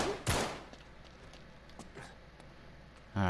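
Gunfire in the video game Uncharted 3, set in a castle museum: a loud burst near the start, scattered fainter shots through the middle and another loud burst at the end, with no talking.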